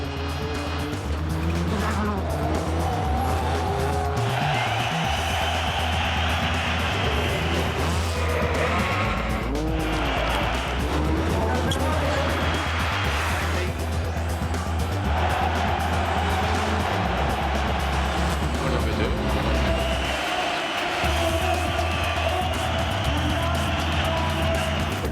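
WRC rally cars racing head-to-head on the 2.4-kilometre Acropolis Rally super special, engines revving and shifting loudly with repeated surges and tire squeals, a large crowd roaring underneath.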